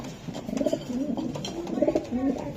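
A racing pigeon from an original club coos in soft, repeated rolling phrases, close by and steady, with no talking over it.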